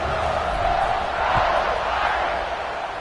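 A college football stadium crowd in a USC versus Notre Dame game roars after a quarterback touchdown, a loud, sustained, dense wash of cheering that swells and holds.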